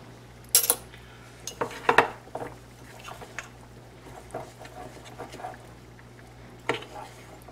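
A metal spoon and fork scrape and clink against a bowl while scooping dumpling dough for turkey and dumplings, with a few sharp taps and soft squishy stirring between quieter pauses.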